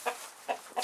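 Backyard allotment chickens clucking in three short, clear bursts, close by, with no voices.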